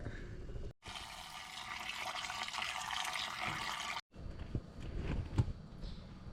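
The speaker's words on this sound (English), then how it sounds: "Now I'm going to just rinse all like the dirt and other debris off" Manzanita berries being rinsed of dirt and debris under running water, a steady faint splashing stream that starts, runs for a few seconds and stops, followed by light handling clatter.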